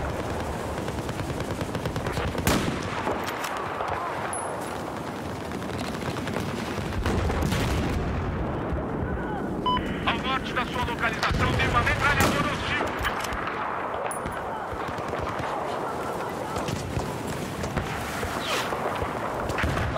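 Steady rapid gunfire rattles through a Battlefield 4 match, bursts of automatic shots and heavier booms overlapping almost continuously at loud volume for the whole stretch.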